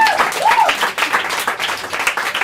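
An audience applauds at an improv theatre show in a bar, a close, dense burst of clapping with faint voices and a brief vocal sound mixed in.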